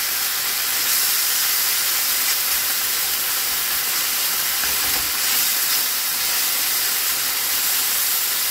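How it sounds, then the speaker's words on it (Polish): Bacon fries in a pan for a zucchini bake, giving a loud, continuous hissing sizzle that swells slightly midway and carries on without any talking. "Boczuś nam się zaczyna pomału przysmażać."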